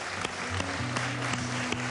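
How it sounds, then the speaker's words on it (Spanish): A television studio audience applauds a haute couture dress on a fashion segment, with scattered claps heard over background music with steady sustained tones. "un aplauso para este traje que lleva Adela M."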